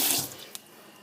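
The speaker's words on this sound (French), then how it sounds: "On met de l'eau chaude et on rince." Hot water from a tap rinsing the inside of an iRobot Scooba 450 floor-washing robot, a brief rushing splash that fades quickly.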